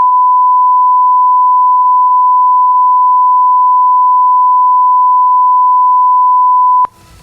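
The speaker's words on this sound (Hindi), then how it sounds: "ये इतना सारा बीप हमको लगाना पड़ा" A loud, steady censorship beep covers a political speech, holding one unbroken tone for about seven seconds before cutting off sharply.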